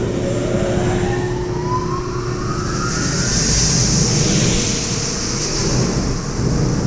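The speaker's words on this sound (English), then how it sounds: "First, I'm going to turn on the blower." An industrial blower on a ZERMA ZCS 1400 film size reducer spins up, a loud steady broadband roar with a rising whine that sweeps upward across the clip, no speech.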